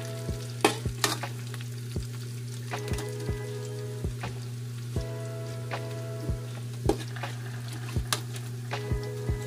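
Hot oil sizzles and spatters in a pan while Bisaya-style humba cooks. A steady frying hiss runs under regular sharp pops and crackles, close and moderately loud, with no voices.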